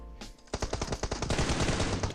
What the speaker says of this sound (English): Got an M249, but thankfully his aim is not too good.